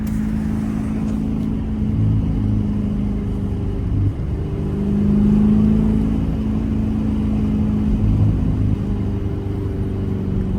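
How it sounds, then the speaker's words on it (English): Low, steady rumble of an SRT Jeep engine with stock exhaust and cabin noise while driving at night, a continuous drone that swells slightly now and then, with no talking. "A little bit of cabin noise"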